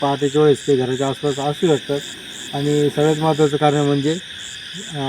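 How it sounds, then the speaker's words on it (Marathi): Frogs calling at night among thick, rain-soaked grass form a steady pulsing chorus in the background while someone talks continuously over it. "बेडकांचं प्रमाण तुम्हाला व्हिडिओमध्ये ऐकू येईल"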